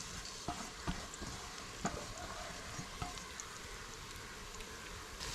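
Grated coconut frying in hot oil in a pan, a quiet continuous sizzle broken by several light scraping and stirring clicks at irregular intervals.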